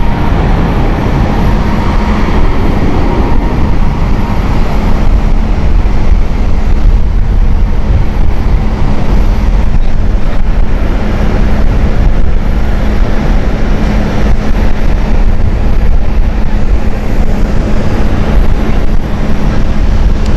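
A Delta airliner rolls for takeoff at Amsterdam Schiphol, giving a loud, unbroken jet roar with heavy low rumble that holds steady throughout, with no one speaking.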